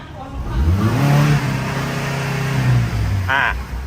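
A Tata CNG truck engine turns over and catches, then climbs into a rising rev before settling back to idle, heard up close with someone talking nearby.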